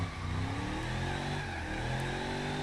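A car engine in the video game BeamNG.drive revs and roars steadily at high pitch, a continuous buzzy drone with shifting tone, loud and close.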